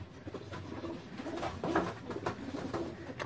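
Pigeons of several varieties in a loft or pen coo nearby, their low throaty calls repeating and overlapping over a soft background.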